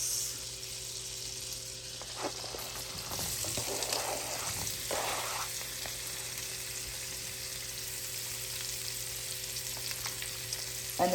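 Apples and scallion whites frying in butter in a pan, a steady close sizzle with soft stirring scrapes, no talking, from a bourbon apple chicken dish.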